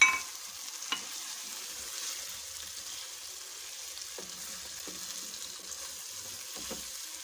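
Fish frying in a pan of cooked tomato masala for a curry, stirred now and then: a low, steady sizzle with occasional soft scrapes and clinks of the spoon, fairly quiet and with no one talking.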